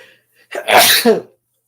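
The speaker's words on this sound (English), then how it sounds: "Of course I had to sneeze." A single sharp human sneeze, close and loud, preceded by a brief inhale and ending abruptly in silence.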